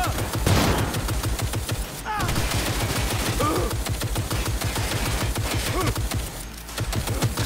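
Gunfire in Cyberpunk 2077 during a frontline battle: dense, sustained volleys of rapid shots rattling almost continuously, loud and close, with brief gaps and mixed battle noise throughout.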